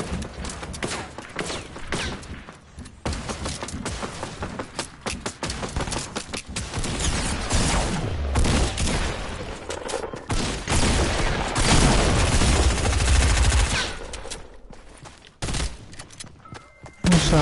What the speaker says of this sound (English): Oh, somebody's shooting at me, bro.